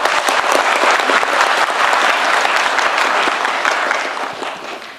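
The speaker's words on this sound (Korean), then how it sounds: "박수 한번 주세요." A crowd at a town hall meeting breaks into dense, sustained applause that fills the room and then gradually fades toward the end.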